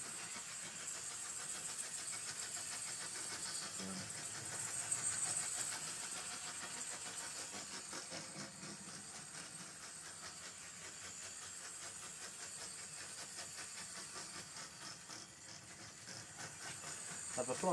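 A Hornby industrial freight set model locomotive running noisily on its track, giving a faint, continuous rattling whir with a steady hiss that holds throughout with little change.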